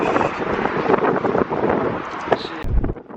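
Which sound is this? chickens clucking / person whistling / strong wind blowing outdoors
strong wind blowing outdoors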